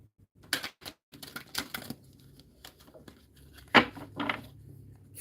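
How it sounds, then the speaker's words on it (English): Rapid bursts of tarot card shuffling, crisp riffles and flicks in quick clusters with short pauses between, close and fairly quiet. "So you go ahead and shuffle up these tarot cards."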